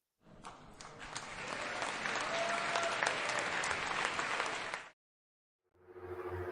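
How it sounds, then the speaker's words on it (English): A canned applause track plays on a livestream, a dense wash of clapping that swells and holds steady, then cuts off abruptly into silence before other sound resumes. "I might have gotten distracted with the applause track"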